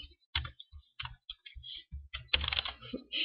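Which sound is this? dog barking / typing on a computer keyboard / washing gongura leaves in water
typing on a computer keyboard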